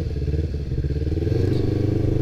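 A Kawasaki Ninja 250 revs hard under full throttle on a test ride, its engine note rising steadily with a rough, buzzing drone close to the rider.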